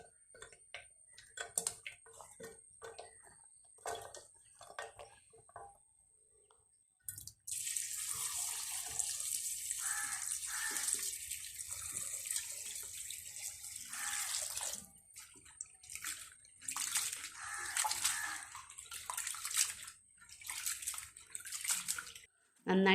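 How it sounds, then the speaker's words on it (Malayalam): Sliced tapioca being washed by hand in a few changes of water, with splashing and running-water hiss starting midway and continuing in bursts, near and fairly soft, after a quieter stretch of small clinks and drips. "എന്നിട്ടത് നല്ലപോലെ 2-3 വെള്ളം കഴുകിയെടുക്കണം."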